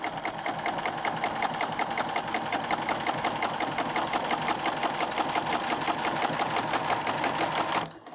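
Sewing machine stitching on a Grace Cutie quilting fabric frame for ruler work, a steady rapid mechanical whir running at an even speed close up, then stopping abruptly at the end.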